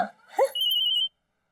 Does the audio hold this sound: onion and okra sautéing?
no